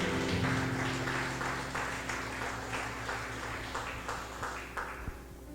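Church congregation clapping together in a steady, continuous applause, fairly close and filling the room, with no talking over it.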